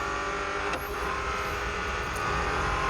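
Lamborghini cars in a racing video game driving along a track, a continuous engine drone with harmonic whine and a couple of quick pass-by sweeps, steady and fairly loud with no talk.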